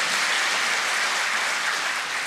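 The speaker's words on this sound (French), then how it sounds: "Félicitations, oui, on peut applaudir." Members of Côte d'Ivoire's national assembly applauding newly elected legislators, a dense, loud, sustained wash of clapping from a large room with no pause.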